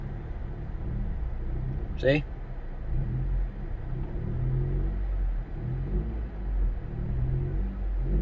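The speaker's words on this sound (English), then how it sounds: "I'm stabbing the throttle so I don't stall the car." A six-speed manual car idles in a low, steady rumble as the driver stabs the throttle while reversing with the clutch slowly released, with a brief short word spoken over the engine.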